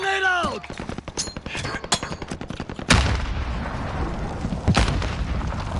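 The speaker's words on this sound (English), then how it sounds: "Grenade out!" Grenade blast and gunfire in Warzone: a rapid string of sharp gunshots, then a heavy boom with a rumbling tail and another burst of shots, a voice briefly audible at the start.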